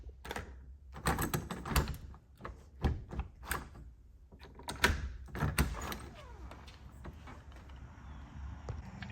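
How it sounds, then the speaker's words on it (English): A Schlage WiFi smart deadbolt motors its bolt in a home door, giving several short mechanical whirs and clicks in quick bursts, close and fairly quiet with pauses between. "as you can see, we do have a working deadbolt"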